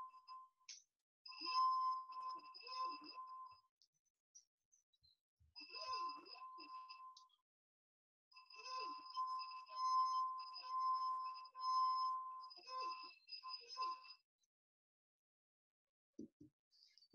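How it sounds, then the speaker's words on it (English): A wet finger rubs the rim of a water-filled glass, as on Ben Franklin's glass armonica, producing soft, pure ringing tones in several sustained swells separated by brief silences. "you need to start rubbing your finger around the rim of the glass"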